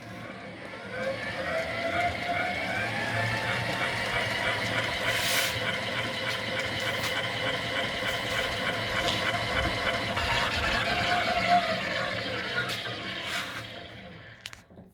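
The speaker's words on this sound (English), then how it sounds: "that little orange knob is a PWM control for that motor, so we'll turn it on" A motorized wooden honey extractor with a PWM-controlled motor runs steadily and fairly loud, a continuous whirring hum with faint rattles, rising slightly before winding down at the end.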